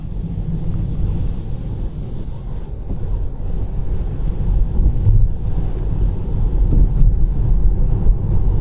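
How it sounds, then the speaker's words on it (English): Strong storm wind buffeting the microphone, a continuous low rumbling roar that swells slightly louder toward the end, with no talking. "Because it's so windy."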